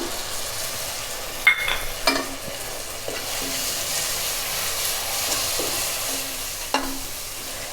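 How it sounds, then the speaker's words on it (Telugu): Mint, cumin and chili paste frying with masala for a mint chicken curry, a soft steady sizzle with occasional stirring knocks and clinks, close and moderately loud. "ఇప్పుడు దీన్ని కూడా వేసి ఫ్రై చేస్తున్నాను"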